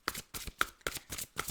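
Tarot cards are riffled and shuffled by hand in about six quick, crisp bursts, close and fairly quiet, with no talking.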